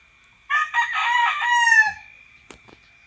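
A rooster crows once, a long loud drawn-out call close by on a farm on Olango Island among chickens, followed by a sharp brief click and a faint cluck.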